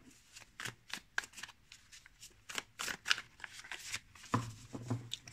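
A new Luna Sol tarot deck being shuffled by hand, the stiff cards giving soft riffling and slapping bursts in an uneven rhythm, quiet and close, with no talking.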